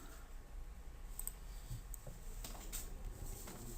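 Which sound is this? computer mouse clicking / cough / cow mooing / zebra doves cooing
computer mouse clicking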